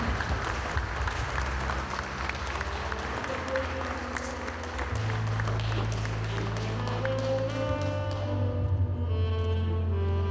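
Audience applause at a Lithuanian book and photo album presentation as a prize winner is called up, steady dense clapping filling the room with music-like tones blending in toward the end.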